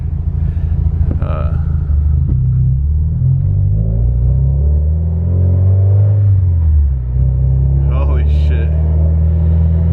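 A car being driven, with a steady low engine rumble throughout and slight rises as it accelerates, close and continuous while a person talks over it.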